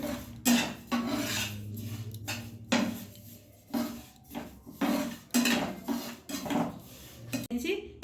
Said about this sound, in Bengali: তিলগুলো আমি ভেজে নিচ্ছি।